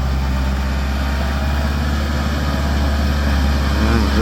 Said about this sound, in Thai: สำหรับเจ้า L4708 นะครับ เป็นรถขนาดเครื่องยนต์ 4 สูบนะครับ